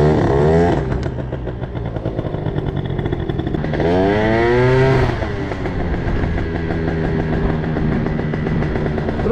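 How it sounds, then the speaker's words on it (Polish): An Italjet Dragster scooter engine runs loud and close at high revs, holding a steady buzzing drone with a couple of rising and falling swells in pitch, no talk over it. "Coś głośno zaczął chodzić ten skuter"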